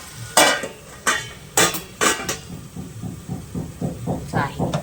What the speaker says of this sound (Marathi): जरा टोमॅटो नरम होण्यासाठी पुन्हा झाकण ठेवते